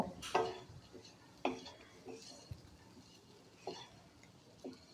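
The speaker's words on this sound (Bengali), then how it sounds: "এগুলোকে খুব ভালোভাবে নেড়ে নিচ্ছি, নিয়ে একটু ভাজা ভাজা করে নিতে হবে" A spoon stirs dry chili and coriander powder into masoor dal frying in a pan, giving quiet scrapes and a few light clinks spaced a second or so apart, with faint sizzling beneath.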